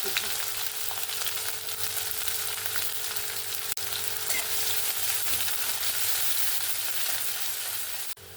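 Onions fry in oil in a pan for a Bengali gima shak recipe, a dense, constant close sizzle that holds steady throughout, broken by one or two brief clicks, no speech.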